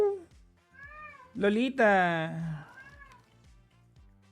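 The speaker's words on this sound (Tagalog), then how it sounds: "Dinig na dinig yung meow." A cat meows loudly several times, long drawn-out cries close by, with a person talking quietly around them.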